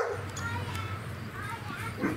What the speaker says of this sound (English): Neighbor dogs. Don't you hate people that can't control their dogs?